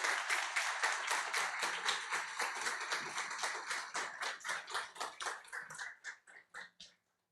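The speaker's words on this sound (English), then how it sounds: "please help me with a rousing round of applause for" An audience applauds the debaters at a tech debate event, steady clapping that is dense at first and thins into scattered claps before fading out.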